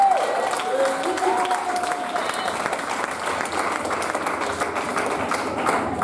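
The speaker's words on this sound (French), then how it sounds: "On acclame bien, acclame bien." A church congregation applauds with steady, moderately loud clapping and crowd noise that runs for the whole stretch, while a brief sung or shouted tone rises at the start.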